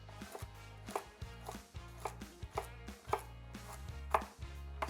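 A knife chops carrots on a cutting board in a steady rhythm, about a dozen crisp, close thuds evenly spaced, with no talking.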